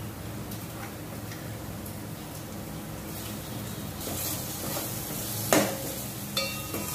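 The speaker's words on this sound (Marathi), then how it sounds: "कांदा चांगला भाजून घेतल्यावर आता आपण त्यात कोळंबी घालणार आहोत।" Prawns sauté in oil with well-fried onions for a Malvani prawn curry, a soft continuous sizzle with light stirring taps and a couple of sharper clinks near the end, no voices.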